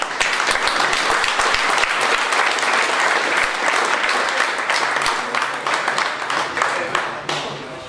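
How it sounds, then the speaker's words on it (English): A live audience at an angling centre's evening slideshow presentation breaks into sustained, dense applause welcoming a speaker, loud and steady throughout before thinning out near the end. "So give a big round of applause to Terry Dempsey."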